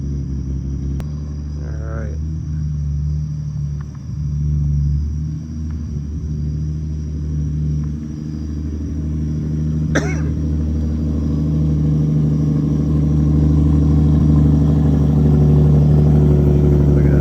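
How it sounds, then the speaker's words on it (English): A 1993 Toyota Supra MKIV pulls in with a deep, steady engine rumble that grows louder and closer as it arrives, with a few brief voices and a cough over it. "1993 Toyota Supra."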